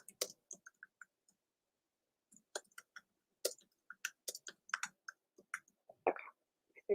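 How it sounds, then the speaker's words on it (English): Sparse, irregular clicks of typing on a computer keyboard, quiet and close, coming in short bursts with pauses between, alone with no talk. "Let me just type this in here."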